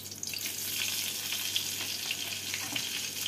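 A green chili, bay leaves and mustard powder dropped into hot oil left from frying fish-roe fritters, giving a loud continuous crackling sizzle, close and steady with no voice.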